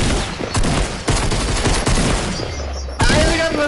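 A rapid burst of revolver gunshots rings out in a video game, several loud sharp cracks in quick succession that end in a final heavier blast.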